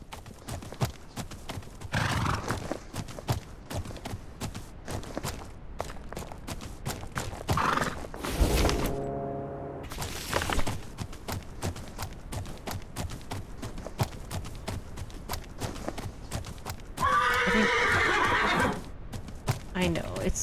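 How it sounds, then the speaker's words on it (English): A horse gallops through cold weather with steady clip-clop hoofbeats throughout, letting out a loud whinny midway and a second neigh near the end, with light talk underneath. "the horse is going to make a lot of noise because of the cold"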